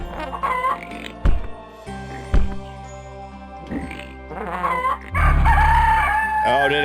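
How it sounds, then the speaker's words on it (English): A rooster crows in the video game Yono and the Celestial Elephants: a few short clucks and thumps, then a long, loud, near cock-a-doodle-doo call near the end. "I've got a rooster."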